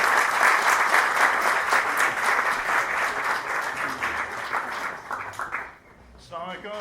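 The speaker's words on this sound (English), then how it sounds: "Round of applause." Audience applause greeting a keynote speaker at an evening presentation: loud, dense clapping from a crowd that holds steady, then thins out and fades near the end as a voice begins.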